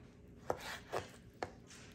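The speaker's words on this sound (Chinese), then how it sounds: "我们就把这个牛排呢切成差不多4-5公分见方的这种" A knife chops deboned beef steak into 4–5 cm cubes on a cutting board, three distinct thuds spaced about half a second apart, close and fairly quiet.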